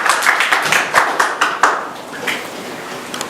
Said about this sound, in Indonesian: kasih tepuk tangan kepada Yesus